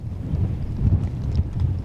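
Strong mountain wind in snowy wilderness gusts against the microphone, a close, low, buffeting rumble that swells and eases unevenly.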